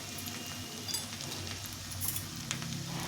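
Steady low sizzle of chili powder frying in a pan for vegetable khichdi, a soft continuous crackle with faint scattered clicks, fairly quiet and with no talking.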